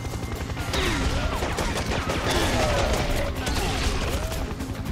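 Rocket and weapon fire from the first-person shooter Serious Sam 3: BFE, a dense, continuous barrage of blasts and explosions filling the whole stretch, loud and close, with game effects layered over it.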